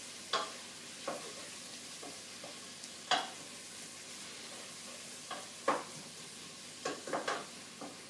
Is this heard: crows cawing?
no